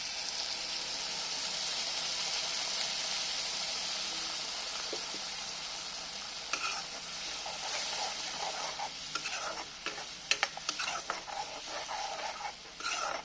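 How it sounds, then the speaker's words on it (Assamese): Masala paste stirred in a pan over whole tomato pieces for a Kolkata-style fish curry, a soft continuous sizzle and bubbling with scraping spoon strokes growing busier toward the end, close and without talk. "অকণমান সময় ভালকৈ লৰাই ল'ম, মিক্স কৰি ল'ম"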